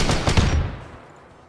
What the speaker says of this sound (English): God, those gunshots are super duper loud.